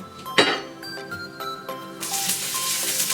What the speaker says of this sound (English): I just hate the splatter of oil